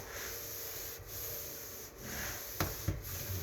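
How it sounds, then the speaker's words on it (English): Used engine oil being rubbed back and forth into a solid wood workbench top, a steady close-up scrubbing swish with a couple of short knocks near the end. "Just rub it back and forth."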